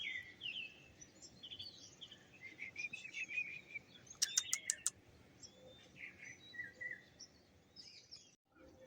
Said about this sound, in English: Just gonna sit here quiet for a minute so you can hear all the birds.